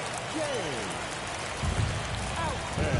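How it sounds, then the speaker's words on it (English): Steady rain falls during a Dodgers–Giants baseball game, a continuous hissing wash of drops at a moderate level, with faint voices underneath. "This rain is not letting up."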